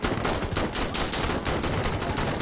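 Shotgun fire in the video game Insurgency Sandstorm comes as dense, rapid blasts that overlap into a steady barrage for the whole stretch, loud and close, with no talking.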